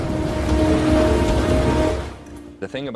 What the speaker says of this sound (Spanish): Y la lluvia ácida cae de las nubes constantemente.